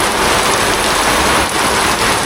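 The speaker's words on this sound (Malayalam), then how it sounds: "പോകുന്ന വഴിക്ക് ഭയങ്കര മഴ" Heavy rain pours steadily on a roadside in Kottayam, Kerala, a dense, loud hiss of drops hammering a surface without a break.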